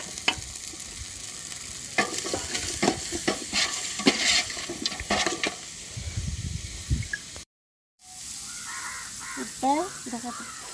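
Ginger garlic paste fries in a pot for vegetable biryani, giving a hissing sizzle with repeated scraping stir strokes. A short gap of silence breaks it, crows caw in the background, and a person speaks.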